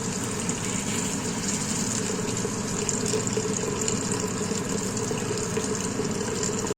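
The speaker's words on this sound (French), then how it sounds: "Et on rajoute l'eau de préférence chaude." Hot water poured into a veal tagine pot with peas and carrots over medium heat, a close, steady, unbroken rushing stream that continues evenly for several seconds before cutting off abruptly.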